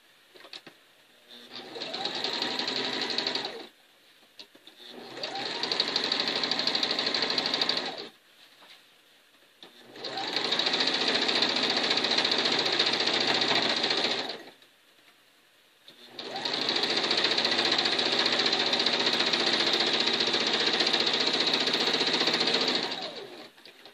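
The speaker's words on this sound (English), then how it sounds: "Now we're going to sew on the side where we put the pins at. And we're going to sew straight all the way down." A sewing machine runs a straight seam on a quilt in four steady bursts of whirring stitching, each several seconds long, separated by short pauses, close and loud with no talking.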